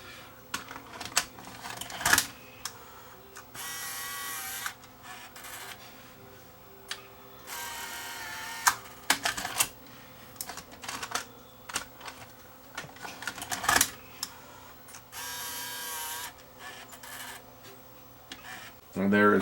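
Sony EVC3 8mm VCR tape mechanism running and ejecting a tape, with repeated mechanical clicks, whirring motor bursts and ratcheting clunks in alternating stretches, close up, with a person talking at times.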